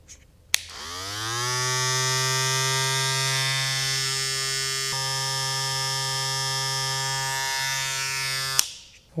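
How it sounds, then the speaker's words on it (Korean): A Wahl hair clipper clicks on, whirs up to a steady high-pitched buzz, runs evenly for several seconds, then clicks off. "여기 제트 클리퍼, 이번엔 베이퍼."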